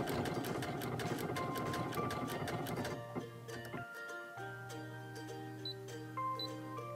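A Brother sewing machine stitches sideways in a steady mechanical whir with rapid rhythmic needle clicks, loud and close. It briefly pauses mid-clip, then resumes with a hum and intermittent beeps.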